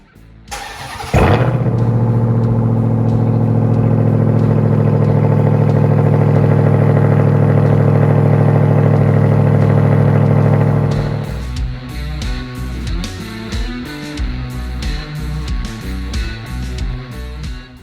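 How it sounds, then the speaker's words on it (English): Ram TRX truck engine cold-starting with a sharp crank and loud steady roar, then idling and revving unevenly as it pulls away to drive off. "let's get this cold start ripping, and then we'll head down to the dealership"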